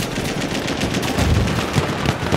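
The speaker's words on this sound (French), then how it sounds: "Une mitrailleuse hostile." Machine gun fire in a Battlefield 1 multiplayer match, a dense, loud, continuous stream of rapid shots with booming low thumps rising and falling through the whole stretch.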